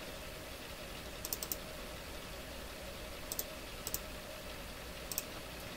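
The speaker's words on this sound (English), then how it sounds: "Hear me clicking away here." Faint computer keyboard and mouse clicks come in small clusters, a few quick taps at a time, over a quiet hiss with long pauses between them.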